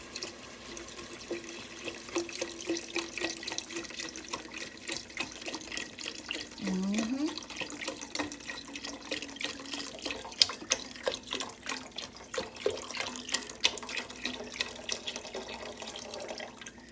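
Swanson beef broth poured from a carton into a pot while cooking oxtails, a steady liquid splashing and trickling that runs through the clip, with a voice talking over it.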